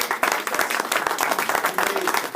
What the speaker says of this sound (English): And a round of applause for